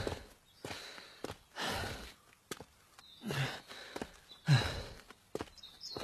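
A sweating man pants heavily after a long climb up a winding path to a hillside nunnery, a series of close, loud, irregular breaths and sighs with short pauses between.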